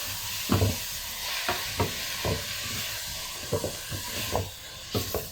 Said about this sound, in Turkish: Şimdi şöyle kırmızı biberim yanmadan hemen Otlarımı da koydum içine. Şöyle karıştıralım.